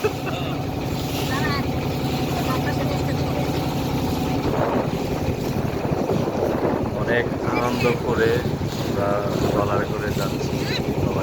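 Steady engine drone and wind rush of a boat crossing a haor wetland in Bangladesh, with voices chattering and calling over it throughout.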